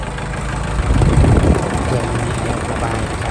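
A Kubota L4708DT tractor diesel engine idles steadily with a low, rumbling drone that swells slightly for a moment, then settles back to an even chug.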